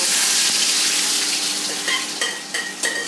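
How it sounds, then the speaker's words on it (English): Already caramelized onion goes into hot, lightly smoking oil with a loud, dense sizzle that settles slightly, followed by a few sharp clinks of a utensil against the pan near the end. "I'm gonna now add the already caramelized onion to the oil"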